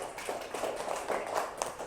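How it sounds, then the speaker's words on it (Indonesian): Scattered clapping from a classroom of students, a few uneven hand claps over a quiet murmur, brief and moderately soft. "Beri tepuk tangan buat si Pak"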